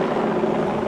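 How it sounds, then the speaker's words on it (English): A firefighting helicopter water-bombing an Australian bushfire gives a steady, close rotor roar with a dense, throbbing chop, loud and continuous across a very short moment, with no talking. "Helicopters have been dispatched by RFS HQ."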